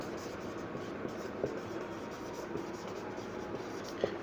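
A lecturer writes on a board in a classroom, producing faint, steady scratching strokes with a few soft taps, over a low room hum.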